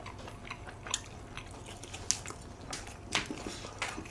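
Close, crunchy chewing and biting of food in irregular bursts with soft crackles, at a quiet level over faint background noise.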